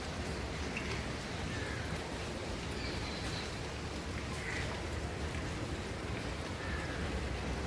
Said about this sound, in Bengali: আজকে বৃষ্টি পড়ছে, দেখুন